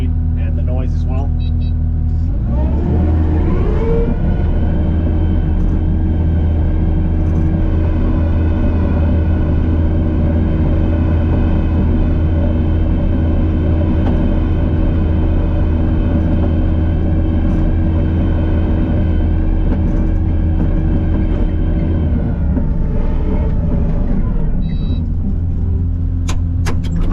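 A Kubota SVL75-2 compact track loader runs at full speed in fast mode, a loud steady engine drone with rumbling tracks, holding constant for over twenty seconds after it revs up, with no talk over it.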